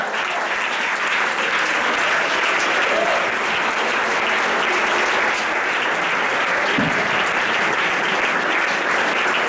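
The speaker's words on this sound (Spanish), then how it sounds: "Un aplauso a Él en esta mañana." A church congregation applauds during a Sunday service, a sustained, even roar of many hands clapping that fills the room with no break.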